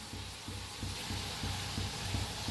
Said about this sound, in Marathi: दोन्ही साईड छान असं तळून घेते.